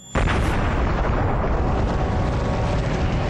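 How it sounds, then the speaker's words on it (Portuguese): A loud explosion sound effect stands in for the Big Bang, bursting in suddenly and holding as a dense, sustained roar for several seconds with no talk. "nosso universo começou há uns 14 bilhões de anos com uma explosão muito violenta"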